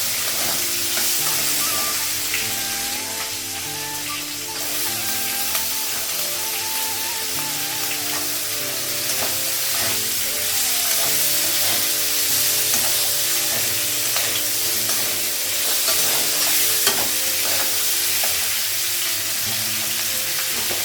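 Ginger paste, turmeric and cumin powder fry in a pan with onion, a continuous dense sizzle and crackle held at an even level, with occasional stirring scrapes and no talking.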